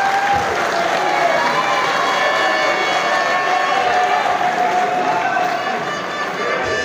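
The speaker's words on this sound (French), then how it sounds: "Pendant qu'il descend sous vos acclamations" A large crowd at a UDPS political gathering cheers and applauds the party's secretary general as he steps down, a loud, dense, continuous roar of clapping and voices that holds for several seconds.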